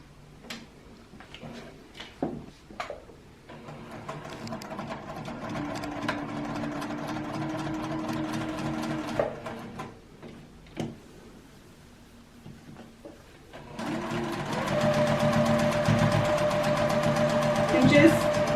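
A sewing machine runs a quarter-inch seam around a quilted pincushion, starting after some clicks and handling sounds and whirring steadily near the end, while someone talks over the earlier part.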